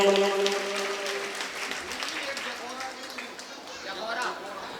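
An audience at a mangal kalash sthapna religious gathering in Bina claps for the people of Gairatganj, a dense patter of many hands beginning under a voice and continuing steadily with crowd murmur.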